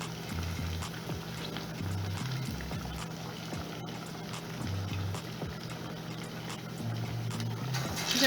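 Green plantain akara frying in hot oil in a pot, giving a steady close sizzle and crackle that runs unbroken throughout, with no talking.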